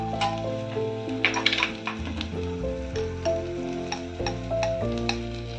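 Three slit green chillies hitting hot oil in a pan with fried onion, a steady loud sizzle with occasional clinks and scrapes of a stirring utensil.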